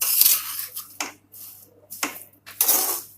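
Spoon scraping and clinking in a pan while mawa (khoya) and dry fruits are stirred together, several separate metallic scrapes and taps in a short, irregular rhythm, close and moderately loud.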